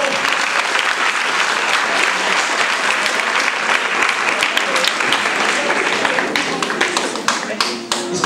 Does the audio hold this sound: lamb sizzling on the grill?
no